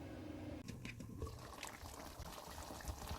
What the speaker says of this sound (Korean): 카레 덩어리가 다 풀어지면 뚜껑 덮어 약불에서 3분만 뜸을 들여주세요